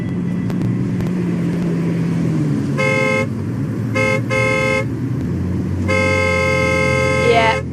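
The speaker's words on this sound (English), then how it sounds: "That is the sound of me on the horn" A car horn honks in several bursts, the last one longer, over steady road and engine noise from inside a moving vehicle in Darwin, Australia.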